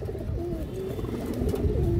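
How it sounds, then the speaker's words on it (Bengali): Fancy pigeons such as Muslidum and high-flyer breeds coo in a loft, low throaty rolling calls overlapping steadily and close by, with no speech heard. "অনেক সুন্দর কবুতর"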